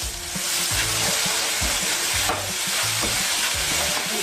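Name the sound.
spice paste sautéing in oil for fish soup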